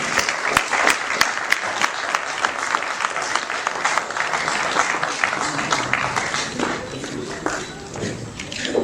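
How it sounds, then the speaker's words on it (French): An indoor audience at a business awards ceremony applauds two women winners, a dense, sustained patter of many hands with some sharper claps, and voices mix in beneath it. "On peut applaudir ça."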